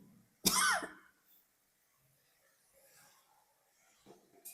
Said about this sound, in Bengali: কাশি কাশি লাগছে